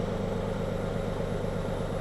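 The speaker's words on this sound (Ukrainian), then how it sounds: "Машина запустилася." A Volkswagen Polo 1.4 TDI diesel engine idles steadily up close just after starting, a low rhythmic chugging rumble that holds constant throughout, with no voices.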